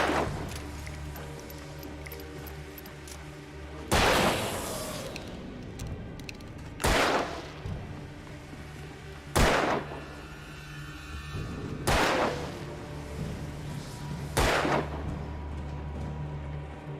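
Gunshots while shooting enemies in the video game Alan Wake, six loud, sharp blasts spaced a few seconds apart, each with a brief ringing tail, over a low ambient hum.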